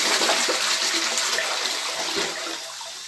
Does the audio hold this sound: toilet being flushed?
yes